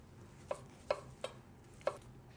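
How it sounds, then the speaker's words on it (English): Knife chopping tomatoes into big cubes on a board, four distinct sharp taps spaced irregularly, fairly quiet and close with no talk. "I'm gonna just cut the tomatoes pretty big, cubic, and then I'm gonna mix up with the salad later."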